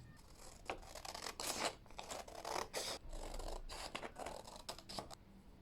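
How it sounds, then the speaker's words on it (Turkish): Scissors cutting through a paper sewing pattern, a close, quiet series of crisp snips and scratchy slices coming in irregular bursts. "Şu kısmı kesiyorum."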